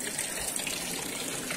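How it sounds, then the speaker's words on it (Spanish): Water falls steadily into the drain of an intensive ornamental fish-rearing tank, a continuous close gushing rush with no breaks. "Aquí tenemos la caída de agua."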